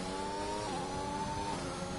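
A 2021 race car engine in a racing video game screams loudly and steadily, its pitch holding high then dipping briefly as revs shift, with no voices over it.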